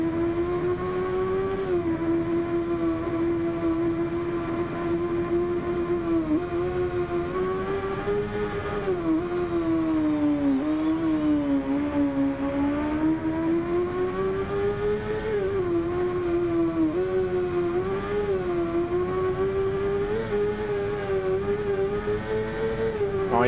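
Bimota BB motorcycle fitted with a BMW S1000RR engine in the racing game Ride 2, its engine droning loud and steady throughout, pitch rising and dipping gently as the throttle varies, with no talking.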